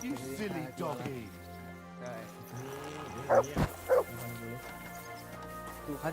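A cartoonish dog barks and yips a few times in a video game, short bright bursts over an upbeat music loop with someone talking along.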